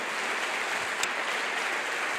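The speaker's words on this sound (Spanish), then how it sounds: "Vamos a darle un fuerte aplauso al Señor" A church congregation claps together in a dense, steady wash of applause, moderately loud and sustained for the whole stretch with no voices standing out.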